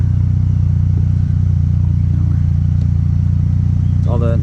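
MK6 VW GTI engine, fitted with new red-top R8 ignition coils, running steady in neutral with a continuous low drone and a slight rev near the end, while voices talk over it.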